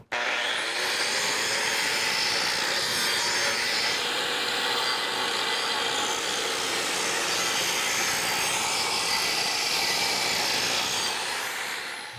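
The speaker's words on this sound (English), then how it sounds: "Use your angle grinder to remove any sharp edges and burrs." An angle grinder deburring the freshly cut end of a ductile iron pipe gives off a steady, loud abrasive grinding hiss with a harsh metallic rasp, running continuously and close by with no talk.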